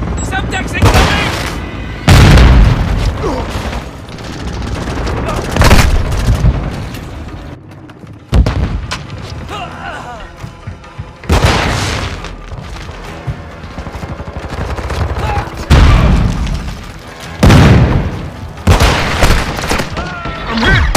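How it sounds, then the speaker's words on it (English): Grenade blasts and bursts of gunfire from Call of Duty Modern Warfare 2 multiplayer, loud booming explosions arriving in heavy waves with rattling shots between them, while voices speak over the combat. "Tossing grenade!"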